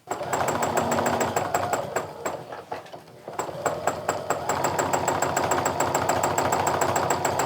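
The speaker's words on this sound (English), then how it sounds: "You should hear that machine making a really steady stitch." A sewing machine quilts a holly-leaf background design, running in a fast, even stitch rhythm that pauses briefly in the middle and then resumes at the same steady pace.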